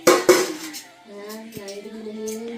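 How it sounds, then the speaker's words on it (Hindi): Steel dishes and utensils clank sharply while being washed in a home kitchen, two loud metallic knocks up front followed by lighter clinks and ringing tones. "बाकी भाभी यहाँ पे बर्तन धोने में लगी हुई है।"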